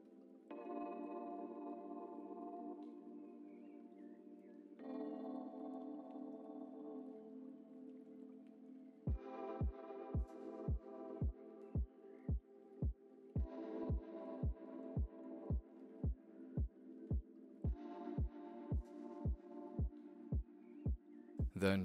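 Hair clippers with a number 4 guard and the lever closed, cutting top hair against the grain, give a steady close buzzing hum that later turns into evenly spaced rhythmic clicking pulses.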